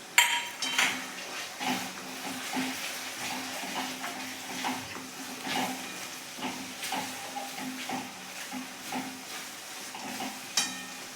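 A spoon scrapes and stirs through a sizzling tomato mixture in a pan as turmeric is mixed in for tuvar thotha, with repeated soft clinks and scrapes against the metal over a steady low frying hiss.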